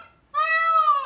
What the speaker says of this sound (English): That's a peacock.